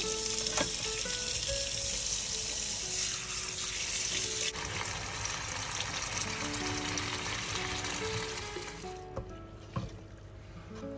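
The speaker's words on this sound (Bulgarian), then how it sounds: "Измивам ориза на течаща вода." Tap water runs in a steady, hissing rush as rice is rinsed beneath it, close and continuous, then the flow cuts off near the end.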